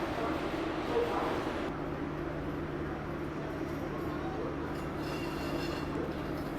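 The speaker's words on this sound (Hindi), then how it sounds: "अब आगे की तरफ आएगा लोकोमोटिव" An Indian railway electric locomotive moves into position for a reversal, giving a steady low rumble and hum at a moderate distance, with faint background noise and a brief sound like a dog barking.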